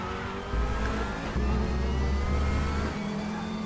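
Race car engine in a racing game, a steady droning hum that rises in pitch and loudness as the car pulls alongside a slower one to overtake, then settles back to a lower tone.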